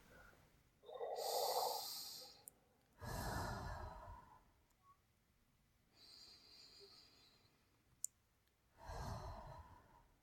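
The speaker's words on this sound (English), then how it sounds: "deep breaths." Slow, deep breaths drawn in and let out in a calm, close, quiet setting, with four long airy inhale-exhale cycles, soft sighing releases and a small click between them.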